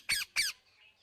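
Two loud, harsh parrot squawks in quick succession, each about a fifth of a second long, followed by faint high chirping before quiet.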